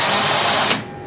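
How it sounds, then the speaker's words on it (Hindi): Electric DC drill machine boring into wood, a steady high whine that runs loud and close for about three quarters of a second, then winds down and fades as the motor stops. "अगर हमें लकड़ी वगैरह पर सुराख करना हो तो यहाँ पे हम रख के नॉर्मली ड्रिल करेंगे"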